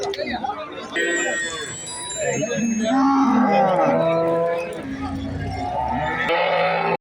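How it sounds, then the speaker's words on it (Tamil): Native breed cattle moo repeatedly at a busy cow market in Valliyoor, Tirunelveli, loud drawn-out calls overlapping with nearby chatter and people talking. "நாட்டு மாடு"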